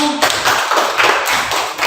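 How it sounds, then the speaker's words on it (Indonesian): Students in a classroom clap for a group with brisk, rhythmic, slightly uneven applause, close and loud, continuing for about two seconds without talking. "Tepuk tangan untuk kelompok 1."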